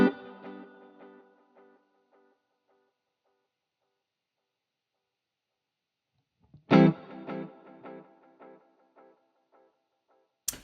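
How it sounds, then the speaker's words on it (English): Guitar played through a tape echo emulating a Roland Space Echo, in stereo: a strummed chord decays into repeating echoes, then after a pause a second chord rings out with trailing repeats, ending on a brief final hit. "It is the tape echo."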